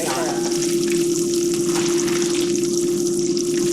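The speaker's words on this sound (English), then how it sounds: "I'm going to chop the peppers up a bit more. And I'm going to get them right into that skillet." Chopped peppers frying in a skillet for homemade breakfast, a loud, dense, continuous sizzle with a steady low hum underneath and no pauses.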